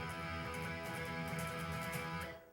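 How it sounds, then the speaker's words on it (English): An unmuted, distorted electric guitar chord rings out with its notes blurring together, sustaining evenly and alone for about two seconds before cutting off abruptly. "That has no clarity because the notes are ringing into each other."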